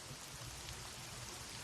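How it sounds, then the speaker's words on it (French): Rain falls at night in the Tenga role-playing game, a steady, faint, even hiss of rainfall with no breaks. "Il pleut."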